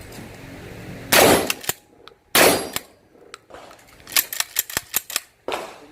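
An NTS Commando 8.6-inch pump-action shotgun with a swapped stock fires three loud, close blasts, each followed by sharp metallic clacks of the pump being cycled, with a quick run of clicks between the second and third shots.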